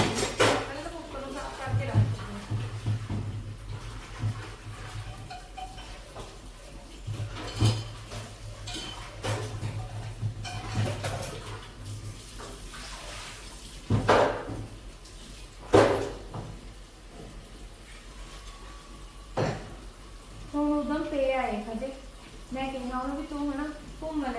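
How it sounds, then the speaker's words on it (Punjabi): Dishes, pots and utensils being washed at home, with repeated clanks, clinks and scraping of metal vessels at close range, interspersed with running water and someone talking. "ਲਓ ਜੀ, ਪਹਿਲਾਂ ਭਾਂਡੇ ਸਾਫ਼"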